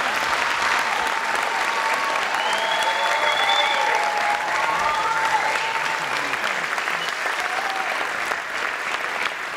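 Audience applause after a children's dance show at a May recital, sustained and steady for the full length, with a few whistles or cheers rising above it.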